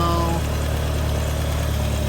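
A car engine idles steadily with a low, even drone and faint mechanical vibration, close and continuous, while a fuel pressure regulator is adjusted.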